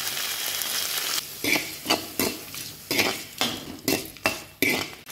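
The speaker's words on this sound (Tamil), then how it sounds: "இதை நல்லா வதக்கி" Tomatoes and garlic sauté in a pan for a Tamil garlic kuzhambu, with a steady frying sizzle broken by about eight rhythmic scraping and clattering strokes of a spoon stirring against the pan, close and fairly loud.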